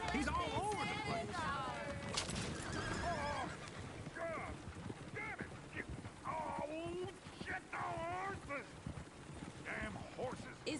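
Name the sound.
horse neighing and hooves in Red Dead Redemption 2 video game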